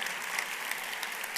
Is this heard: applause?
yes